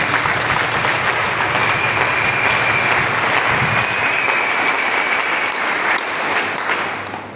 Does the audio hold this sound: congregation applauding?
yes